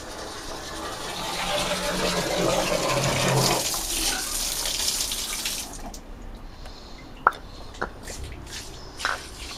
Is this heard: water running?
yes